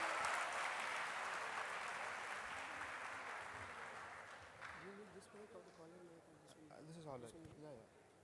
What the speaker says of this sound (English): Please put on a huge round of applause for him.